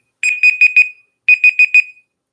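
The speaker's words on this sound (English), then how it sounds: "and beep, beep, beep, beep" A trivia club countdown timer ends with loud, close electronic alarm beeps in two bursts of four rapid tones separated by a short pause, with nothing else audible.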